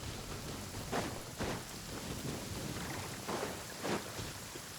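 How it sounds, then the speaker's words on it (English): Steady rain hisses across the scene in the Genshin Impact video game, with soft low rumbles of thunder swelling every second or so beneath the continuous downpour. "Oh, raining."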